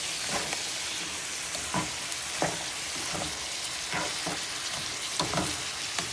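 Onions and meat sauté in butter in a pot, a steady, close, dense sizzle with faint stirring scrapes and no voices.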